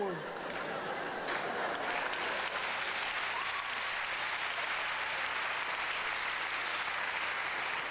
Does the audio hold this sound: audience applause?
yes